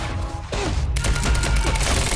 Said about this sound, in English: An assault rifle.